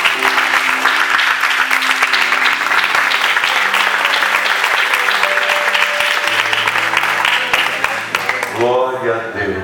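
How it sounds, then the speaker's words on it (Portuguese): A church congregation applauds loudly and continuously, with dense clapping under a sustained musical tone, and a voice briefly rises near the end. "Un fuerte aplauso, iglesia."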